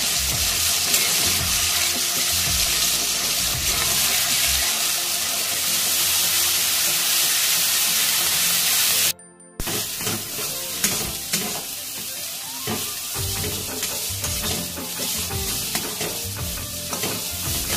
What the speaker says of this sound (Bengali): এটা একটু বেশি সময় ধরে কিন্তু ভাজতে হবে, ভাজাটা ভালো হলে খুব ভালো লাগে খেতে।